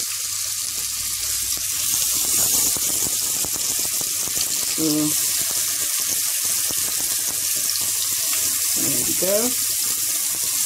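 Fish sears in olive oil in a pan, a constant bright sizzle and hiss running under a man's speech throughout.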